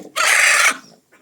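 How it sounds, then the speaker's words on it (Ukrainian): A loud burst of squawking from a chicken, harsh and sustained for about half a second, then trailing off into faint softer clucks. "курка"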